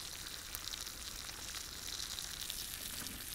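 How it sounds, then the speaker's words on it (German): Flounder, roughly salted, frying in a pan outdoors on a Baltic Sea beach, giving a steady, even sizzle with crackling hiss throughout, close and alone with no talk. "die Flunder muss nämlich noch ein bisschen hier brutzeln"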